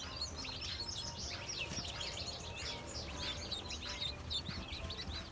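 Baby ducks on a farm, Khaki Campbell and other layer and meat breeds, chirp and peep in a busy overlapping chorus while eating, with a steady low murmur underneath.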